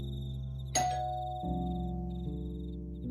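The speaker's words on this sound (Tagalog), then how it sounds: "Napunta sa tunog ng doorbell ang atensyon namin nang magring yun." A doorbell rings twice in a ding-dong pattern, a bright chime followed by a lower tone, heard over a steady musical drone.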